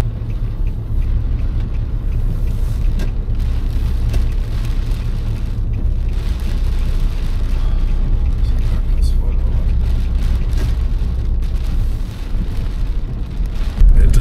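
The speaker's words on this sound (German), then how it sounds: "Da ist er wieder, der Regen." Steady rain pours down in a dense, continuous hiss that stays loud from start to finish, with a faint murmur of a voice and vehicle-like rumble mixed underneath.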